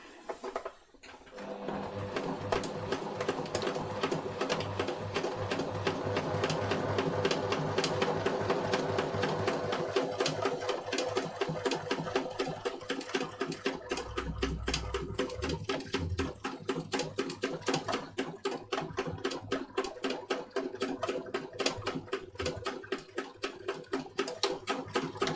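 A sewing machine runs a triple stitch in a long steady stretch, its needle clattering in a fast, even mechanical rhythm with a motor hum underneath, close and alone for about twenty-five seconds.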